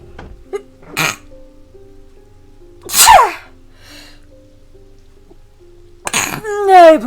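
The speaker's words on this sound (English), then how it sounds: "I've been kind of sneezing for the last couple of days." Loud, sharp sneezes from a person with a cold, three distinct bursts spread across several seconds, the last one drawn out with a voiced trailing tail, over a quiet background.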